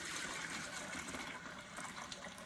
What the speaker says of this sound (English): I'm just going to pour the remainder of the kombucha in.